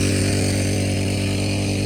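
The small engine of a portable pressure sprayer, used for washing cars and bikes, runs in a loud, steady buzzing drone, close by, constant and with no talk over it.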